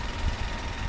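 A Toyota Etios 1.3 engine idles with the hood open, a steady close rumble with a faint vibrating thrum, brief and without talk.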